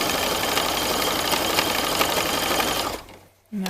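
A sewing machine stitches slowly over the elastic edge and seam of a sports bra. It gives a loud, steady, rapid chatter for about three seconds, stops briefly, then starts again at the end. No one speaks.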